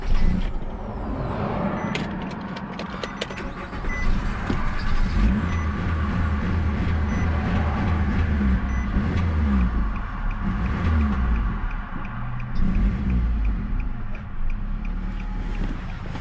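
Nissan Rogue engine idling with the mass airflow sensor unplugged, a steady low rumble with some roughness and a few clicks, close by with no speech.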